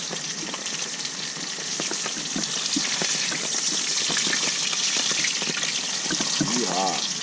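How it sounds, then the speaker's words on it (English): Shellcracker fish fry in hot grease in an ammo can outdoors, a continuous loud crackling sizzle with bubbling throughout, close up and steady. "one thing for sure, that grease is nice and hot"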